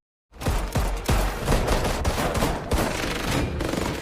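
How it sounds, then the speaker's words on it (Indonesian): Loud, dense bursts of gunfire in an action film scene, with sharp repeated shots layered over a constant roar, like a fusillade from several guns at close range. "dan Batman pun ditembak."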